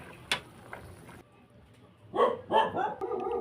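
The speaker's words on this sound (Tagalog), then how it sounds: "Ingay yung mga aso dito." A few short dog barks ring out nearby after a quiet stretch, clustered together near the end.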